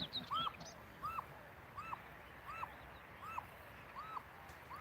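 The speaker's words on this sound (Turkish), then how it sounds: "Buna bakın bunlar Sivas kumrusu beyaz olan böyle dumanlı olan. Bakın şu anda ötüyor." A white, smoky-coloured Sivas dove calls six times at a slow, even pace, each call a short rising-falling note, faint against a soft background hiss.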